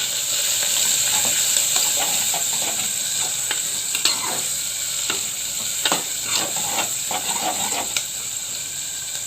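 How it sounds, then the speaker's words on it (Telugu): Chopped onion pieces hiss and sizzle in a hot pan for brinjal curry, while a utensil scrapes and clacks in repeated strokes, close up, with a constant bright frying hiss underneath. "బాగా కలుపుకుందాం దీన్నంతా ఒకసారి ఉల్లిపాయ ముక్కల్ని"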